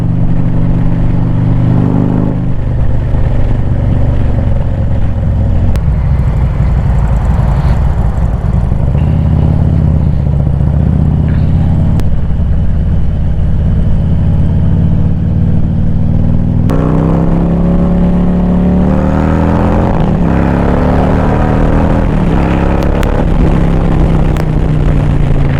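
Harley-Davidson Street Glide performance bagger in fourth gear, a deep rumbling engine pulling steadily and rising in pitch, close and loud with constant wind roar throughout.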